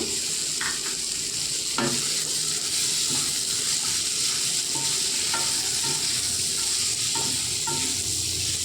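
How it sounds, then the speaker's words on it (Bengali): Onions and ivy gourd fry in a pan while being stirred, a loud continuous sizzle broken by several sharp scrapes and clacks of the spoon against the pan, close up with no talk. "ভালো করে আবারও নেড়ে চেড়ে এক মিনিটের মতো ভেজে নিচ্ছি"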